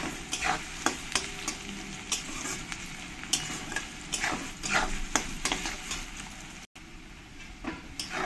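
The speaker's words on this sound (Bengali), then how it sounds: "সুন্দর করে ব্রাউন কালার করে পেঁয়াজটাকে ভেজে নিতে হবে।" Sliced onions frying in hot oil in a pan and turning brown, a steady close sizzle broken by repeated scrapes and clicks of a spoon stirring them, with no voices.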